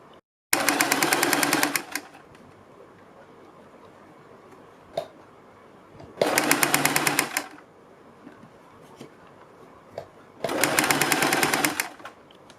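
A sewing machine runs in three loud, even bursts of rapid stitching along a kurti neck trim, with quiet pauses and soft handling noises between runs.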